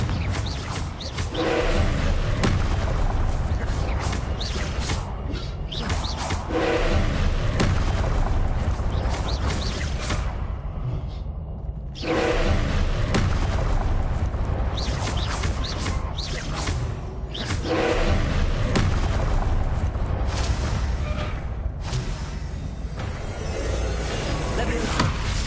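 A fiery Confringo explosion spell in Hogwarts Legacy bursts amid loud, dense game noise of roaring whooshes and thuds, with several heavy surges over a continuous blast-filled bed.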